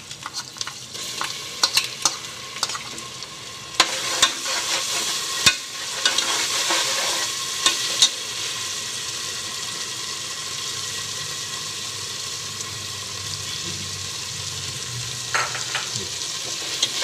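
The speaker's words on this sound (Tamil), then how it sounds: "பச்சை மிளகா ஆட் பண்ண பிறகு இஞ்சி பூண்டு பேஸ்ட் நம்ம ஆட் பண்ணிக்கிறோம்." Ginger garlic paste and green chillies sauté in hot oil, a continuous frying crackle with bursts of stirring and scraping early on, then settling into an even, close sizzle.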